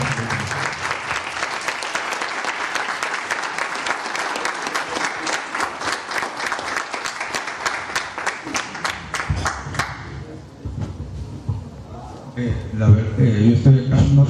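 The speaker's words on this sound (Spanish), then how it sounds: "Le dan un fuerte aplauso a profesor Ángel Coca Balta por todo el apoyo." An academic audience at a science lecture gives a strong round of applause for a professor, dense clapping for about ten seconds that fades, followed by murmuring and a voice speaking near the microphone.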